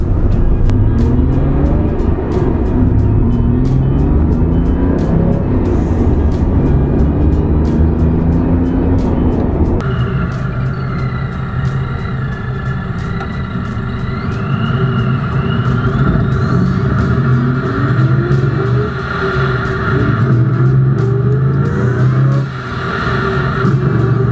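A 1999 Chevy S10 Extreme pickup truck drives with a steady loud engine drone and road rumble, the pitch climbing through gears and shifting midway as it accelerates, with no talking over it.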